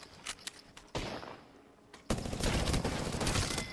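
Gunfire from the battle royale shooter Apex Legends, with scattered distant shots early on, then a loud sustained burst of rapid fire from about two seconds onward with no talking.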